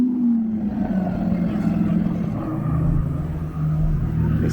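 A Lamborghini passes on the road with a deep, throaty engine rumble that rises and swells, held steady and fairly close, with a slight dip before surging again.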